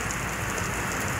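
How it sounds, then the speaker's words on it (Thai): Rain falls steadily near the foot of a bridge on the Bang Bua Thong side in Thailand, a dense, even hiss of drops with no voices. "นี้คือฝนตกครับ"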